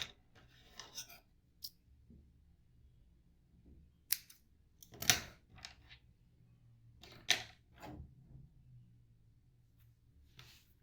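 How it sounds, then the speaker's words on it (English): A few sharp crisp snips of scissors cutting crochet yarn while finishing a baby bootie, brief separated clicks spread across a quiet room with no talking. "you fasten and cut your yarn"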